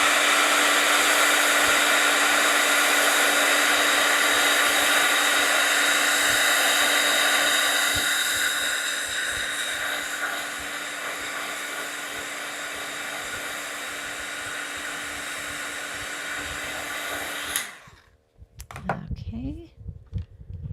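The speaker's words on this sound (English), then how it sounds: "Hit that with my heat tool" A craft heat gun blows steadily and loudly as a continuous whooshing hiss with a constant motor whine, softening partway through, then cutting off near the end as a voice speaks.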